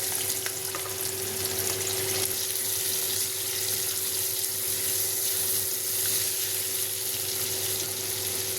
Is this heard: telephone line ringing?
no